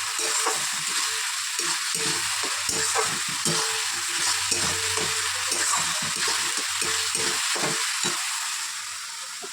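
Onion, tomato, ginger and garlic masala frying in oil sizzles loudly and continuously at close range, with repeated scraping strokes of a spoon stirring through it.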